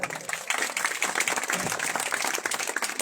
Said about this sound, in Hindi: आपकी तालियां बहुत कमजोर है भाई साहब।